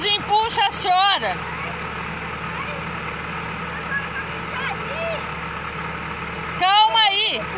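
Tractor engine idling during a mud rescue, a steady low rumble running throughout, with people talking loudly over it at the start and the end.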